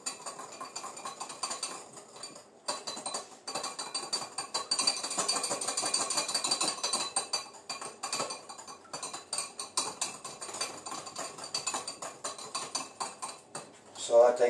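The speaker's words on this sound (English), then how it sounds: "So I think I'm just going to keep stirring this until that's golden brown." A spoon scraping and clinking against a pan while stirring strawberry shortcake mix, with repeated metallic taps and scrapes in an uneven rhythm, close and moderately loud, and a voice talking now and then.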